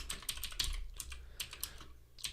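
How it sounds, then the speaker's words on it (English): Fingers type on a computer keyboard while editing a file, a quick irregular run of light clicks and key taps, close and clear, with no talking. "let's try typing"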